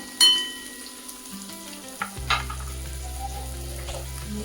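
Washed urad dal dropped into hot oil in the middle of a pan with onions for a yellow potato dish, a sharp sizzle burst followed by a steady frying hiss with light clinks and stirring.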